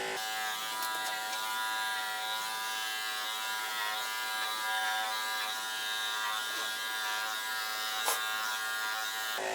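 Electric clippers shave a cat's fur with a steady, close, bright buzz that holds an even level throughout, with one brief click near the end and no talking.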